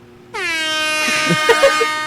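A loud, sustained air horn blast starts abruptly and holds for about two seconds, with voices talking faintly underneath it.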